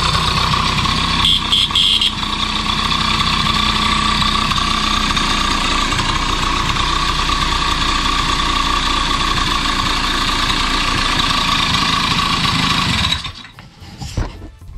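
A Honda Dio AF-18 moped engine idles close by with its lights disconnected, a steady buzzing putter that runs evenly for about thirteen seconds before it cuts out, leaving a few faint mechanical clicks.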